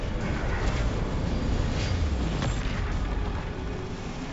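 Spell blast in the wizarding game Hogwarts Legacy, a deep rumbling boom that swells and holds steady for several seconds, loud and close with no voices.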